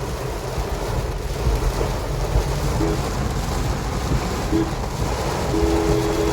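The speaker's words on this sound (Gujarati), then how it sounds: "વરસાદ ફૂલ આવે છે" Heavy rain pours down steadily near a parked car, a dense, loud, continuous wash of noise with no talk.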